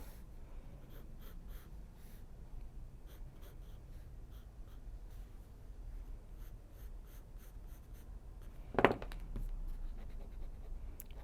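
A pencil or pen draws lines on paper in soft, repeated scratchy strokes, close and quiet, with one sharper breath-like sound near the end.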